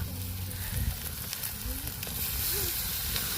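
Fish dropped into a pan of masala curry sizzles and hisses steadily and loudly throughout, with a faint voice briefly audible beneath the frying.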